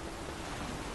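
A brief, dense wash of steady rain in the video game The Witcher 3, an even hiss with no voices.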